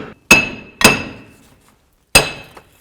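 Three sharp, ringing metallic hammer strikes hit a corroded, stuck front wheel hub on a Cadillac CTS, two in quick succession and then a third after a pause, each decaying quickly.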